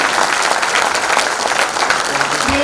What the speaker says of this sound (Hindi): अब एक बार खुद के लिए भी ताली बजा लो